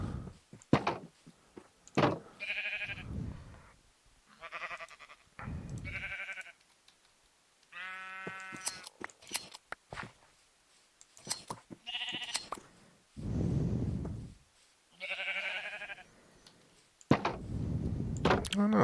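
Sheep in the Minecraft video game bleat repeatedly in short wavering calls, spaced every second or two across the stretch, with a player talking between them.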